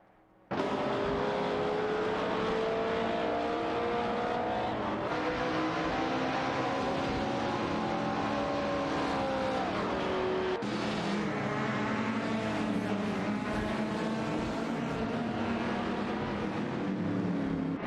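Alfa Romeo Giulietta and Fiat X19 Dallara race cars in a video game race, engines droning loudly and steadily with shifting pitch as they run close together, one passing the other.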